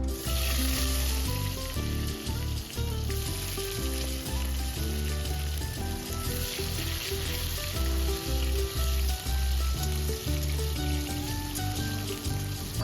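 Cut potatoes fry in hot oil tempered with cumin seeds and two bay leaves. A loud, close, constant sizzle bubbles throughout with occasional stirring and no talking.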